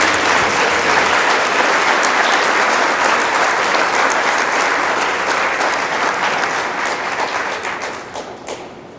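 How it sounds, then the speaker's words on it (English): A crowd at a Maple Grove school ribbon-cutting ceremony gives a round of applause, loud sustained clapping that fades out toward the end. "And now can we have a round of applause for Maple Grove?"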